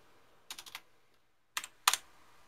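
Someone types a shutdown command on a computer keyboard: a quick burst of four keystrokes, a pause, then two more sharp clicks, close and clear with no talk.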